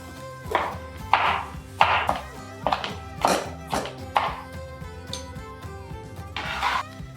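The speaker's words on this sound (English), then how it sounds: "Let's chop up red pepper." Red pepper chopped with a knife on a cutting board during food prep: about nine firm, close knife strikes in an uneven steady rhythm, with no talking.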